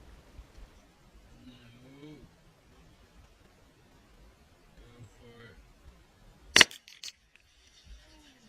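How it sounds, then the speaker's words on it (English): A bang stick fires a bullet into an alligator's skull with one sharp, loud crack and a brief follow-up knock, set against quiet outdoor background and low voices talking before it. "you slam it down, which then will ignite the bullet and kill the alligator"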